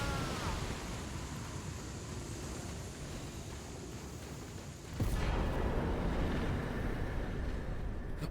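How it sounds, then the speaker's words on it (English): Video game explosions during a speedrun, a steady rumbling roar that jumps louder about two-thirds of the way through, with the boom sustained rather than as separate blasts and no talking over it. "Wait for the explosions and boop."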